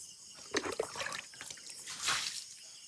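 Water splashes and trickles onto a cement floor at night in short bursts, close and fairly quiet, with a brief louder gush near the end.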